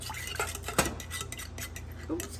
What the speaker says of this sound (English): I will be stirring this.